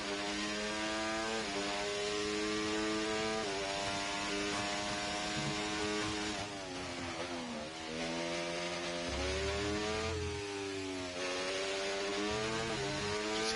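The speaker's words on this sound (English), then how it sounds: "Just hear the engine." Race car engine in a racing video game at the Imola circuit, a loud sustained high-revving whine that rises and dips with gear changes and throttle, with a lower rumble briefly entering near the end.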